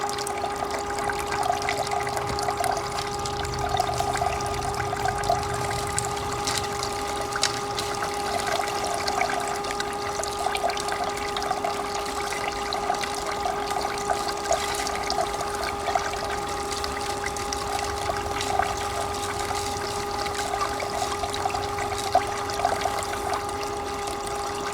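Water rushes continuously through a GOLDROP five-gallon bucket gold sluice as dirt is fed in, a steady pumped trickle and splash with a constant mechanical hum underneath.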